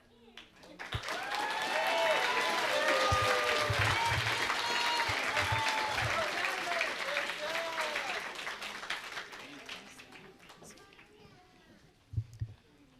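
A graduation audience for a community-based transition program applauds the graduates, with loud sustained clapping mixed with cheers and voices that swells, holds for several seconds, then tapers off, followed by a few sharp thumps near the end.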